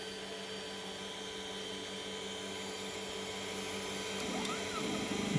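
A 3D printer runs with a steady whirring motor drone, joined near the end by rising and falling stepper-motor tones as it begins laying filament on the build plate.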